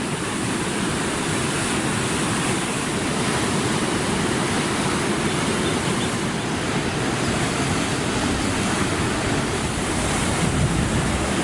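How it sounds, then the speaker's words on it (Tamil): Water released through a dam sluice gate roars down the Thenpennai river in a dense, constant rushing torrent, loud and unbroken for the whole stretch, with no voices. "ஒரு மதகின் வழியாக 500 கன அடி நீர் தென்பெண்ணை ஆற்றில் வெளியேற்றப்பட்டு வருகிறது"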